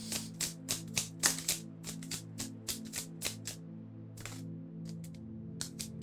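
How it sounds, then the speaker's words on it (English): A tarot card deck is shuffled close up in a quiet room, a rapid series of crisp riffling bursts and taps in an uneven rhythm, with no talking. "Let's just do another shuffle."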